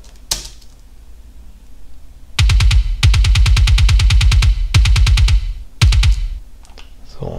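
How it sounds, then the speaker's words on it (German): Fast bursts of a dry, clicky, unprocessed metal kick drum sample, rapid double-bass rolls in several short runs separated by brief pauses, loud and close. "So klingt die Kick ohne Magic."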